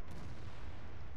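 A tank gun fires in the online game World of Tanks, a T95 tank destroyer in a random battle: a dense, rumbling low boom that fills the short span, fairly loud and with no talk over it.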